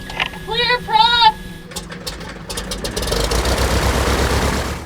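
A small airplane's propeller engine starts up before takeoff on an aviation day, rising into a steady loud drone and rumble after a shouted call at the start.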